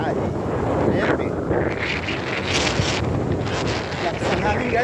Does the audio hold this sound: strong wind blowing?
yes